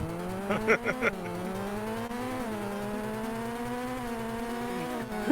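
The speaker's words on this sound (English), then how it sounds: "revs the engine, and just immediately runs into a wall and starts scraping along it" Racing-game cars rev and squeal in short bursts, then a steady engine drone and scraping hum carry on as a car grinds along a wall, fairly loud and with no talk over it.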